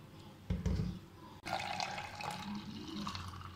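Falsa juice is poured through a strainer to hold back the seeds, with a close splash of liquid at the start and then a steady trickling flow running on and gradually thinning out, with no voices.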